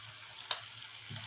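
Masala of turmeric, red chilli, Kashmiri chilli and garam masala powders sautéing in a pan for green peas kheema, giving a soft, steady sizzle with a single sharp clink partway through.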